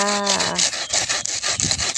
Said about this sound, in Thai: ก็จะใช้เลื่อยในการตัดดอกไม้จ้ะ